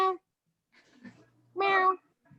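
A cat meows twice at a Brazilian jiu-jitsu gym: a short, clear cry, then a louder, longer one about a second and a half later, with faint sounds between.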